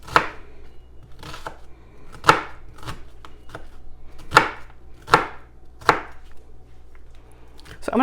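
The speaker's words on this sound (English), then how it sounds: "So I'm going to keep chopping up this onion" A knife chops through an onion on a cutting board in a home kitchen, with irregular sharp thuds spaced about a second apart, close and clear with no talking.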